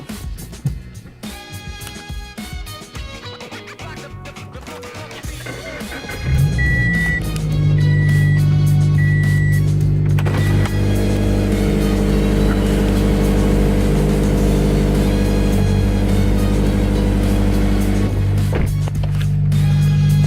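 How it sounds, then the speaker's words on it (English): A Subaru BRZ's engine cold-starts in the morning, going from a quiet cabin to a steady, loud low rumble that holds at an elevated idle with no talking. "Gotta love the cold start of BRZ in the morning."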